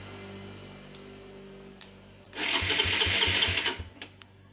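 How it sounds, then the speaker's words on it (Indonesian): A Suzuki Satria F150 starter motor, a dynamo wired directly to the battery by shorting, spins up suddenly with a loud, steady whirring buzz that lasts about a second and a half, then stops abruptly with a few trailing clicks. "kita coba dikosletkan masih bagus atau tidak kondisi dinamonya."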